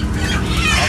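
Desi chickens at a chicken cutting shop in Kalahandi cluck loudly and close, a short burst of harsh overlapping squawks against shop noise.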